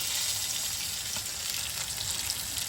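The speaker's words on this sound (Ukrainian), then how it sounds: "Цибуля у нас, бачите, як піджорилась до золотистого. І потихеньку тепер сюди морковочку." Onion that has browned to golden fries in a pan as carrot is added, giving a steady, moderately loud sizzling hiss with a faint stir partway through, close by and without speech.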